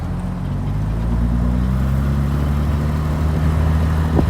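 A rare automatic Jaguar E-type pulls up a highway on-ramp, its engine a loud, steady low drone with rising harmonic tones as it accelerates, heard close from inside the car without talk.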